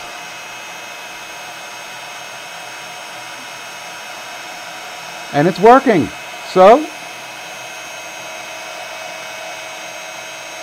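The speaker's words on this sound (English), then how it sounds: "So I'm just heating up my heat tool." A crafting heat tool blows hot air to melt embossing powder, a steady whooshing hum that runs the whole time while a person speaks briefly over it partway through.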